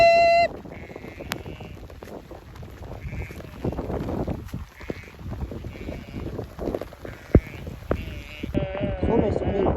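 Woolly Ryland sheep bleat repeatedly in a battering storm, several bleats spaced through the clip over a constant rush of wind and rain, with a person's voice heard at moments.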